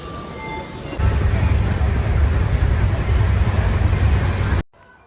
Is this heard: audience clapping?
no